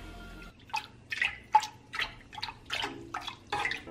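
A pot of soup being stirred at home gives a series of soft, wet sloshing strokes at a steady rhythm, fairly quiet and close, with no talking.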